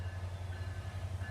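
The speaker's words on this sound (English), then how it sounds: "Oh, there's a train coming." A train rumbles steadily a block away from rail tracks, a low, continuous distant drone with faint hiss and no horn, heard alone without talk.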